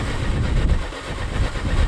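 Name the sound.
old tractor engine running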